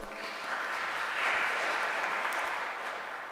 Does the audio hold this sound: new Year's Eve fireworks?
no